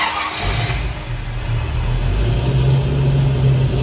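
A 1970 Ford Mustang Mach 1 V8 engine cranks and catches, then settles into a deep, loud rumble with a slight rise in revs.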